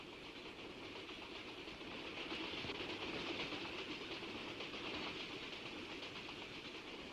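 A train pulls into a railway station, its faint, continuous rumble and wheel clatter swelling slightly midway, with no one speaking.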